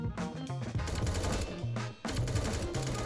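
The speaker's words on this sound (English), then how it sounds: "Maybe I'll go in with the SMG and just try and spam." Rapid SMG fire in the online shooter game 1V1.LOL, a dense rattling spray of shots in sustained bursts with a brief gap near the middle, loud and close, with no talk.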